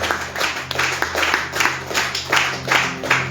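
Church congregation at a Sunday service clapping in a steady rhythmic beat, loud and close, with a sustained low tone underneath.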